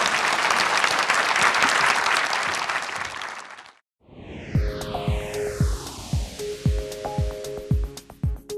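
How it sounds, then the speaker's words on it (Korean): Audience applause at a Chicago gathering honoring author Yi Mun-yol: dense, steady clapping for about three and a half seconds that stops abruptly, followed after a brief silence by unrelated ringing pings and soft thumps. "큰 박수 부탁드리겠습니다."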